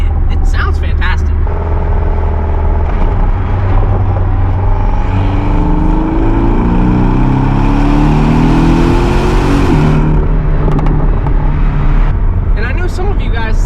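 A Porsche 718 Cayman S with a four-cylinder engine revs hard and loud, its pitch climbing and falling through sustained acceleration, with a person talking over the engine noise.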